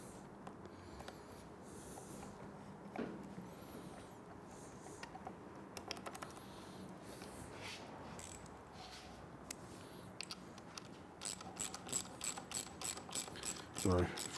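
A ratchet wrench clicks as it tightens a 14mm handlebar bolt on a Triumph Bonneville T100/T120 during a cafe handlebar install, with quiet fiddling early on and a fast run of close, crisp clicks near the end.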